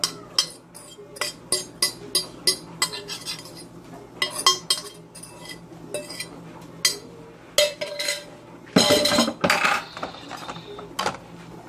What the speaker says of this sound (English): Now, I'm going to add in my meat and vegetables.